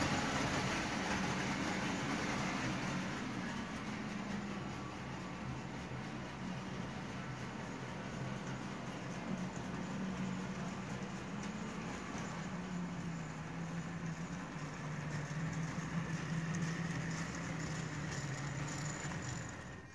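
Marx 897 model locomotive fitted with a 6 volt DC motor, running steadily with a continuous soft whirring hum and faint rattling, level and even throughout.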